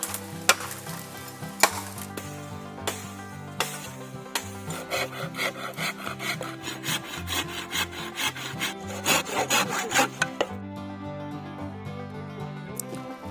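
Bamboo is cut for bamboo chicken with steady back-and-forth sawing strokes, near and rhythmic, with a few sharp knocks, continuing throughout before fading near the end.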